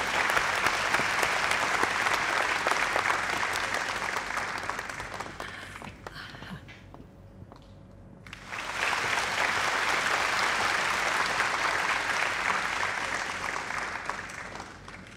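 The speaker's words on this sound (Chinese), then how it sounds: "掌声欢迎。" Audience applause fills a gala hall at a jewelry brand's annual celebration, loud sustained clapping that dips briefly midway to a quieter lull before swelling back to full strength.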